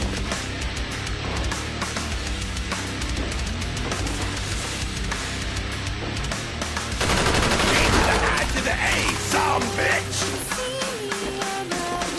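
Gunfire in Black Ops Zombies at round 30, rapid bursts of shots rattling continuously over game sounds and music, growing denser partway through, with a player's voice heard briefly.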